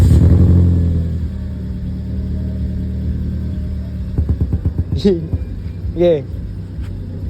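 Toyota Vios with a 1NZ engine suffering multiple misfires, a loud close rumble that breaks into uneven stuttering revs and two short rising blips, with a brief spoken word.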